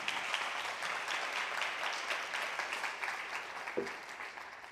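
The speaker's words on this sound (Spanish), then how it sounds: "Vamos a dar una ofrenda de palmas." A church congregation claps together during a sermon, a dense, steady wash of many hands that holds evenly from start to finish with no voices over it.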